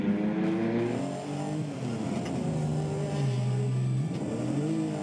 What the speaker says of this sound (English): The Porsche 934 and the GT40 are giving it their all as they race towards Renexcon.